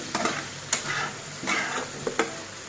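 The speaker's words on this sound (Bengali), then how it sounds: "একদম মিডিয়াম ভাবে জালটা দিয়ে আলুটা এভাবে ভাজতে হবে" Potatoes with turmeric powder fry in a pan over medium heat while being stirred. Several scraping strokes rise over a continuous close sizzle.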